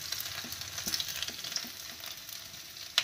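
Chopped garlic and ginger frying in a pan for chili paneer gravy, a soft continuous sizzle with occasional light stirring clicks and one sharper tap near the end, quiet and without talk.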